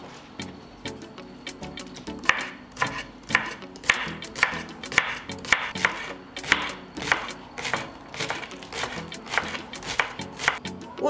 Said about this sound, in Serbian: Dok nam testo stoji, iseći ću dve veze mladog luka.